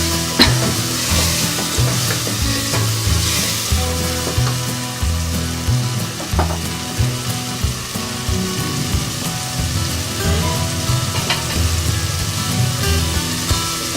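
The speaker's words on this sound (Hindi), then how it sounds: "इसको अभी हम 2 से 3 मिनट भूनेंगे" Boiled spinach fries in masala in a pan for aloo palak, a steady close sizzle with crackling pops and occasional stirring scrapes throughout.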